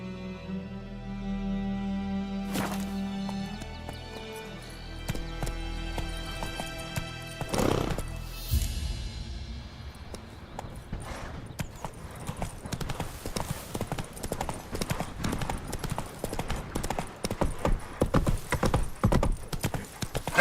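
Roach the horse in The Witcher 3, first a short whinny, then hooves that speed from a trot into a fast, steady galloping clip-clop, close and dense, with faint game sounds underneath.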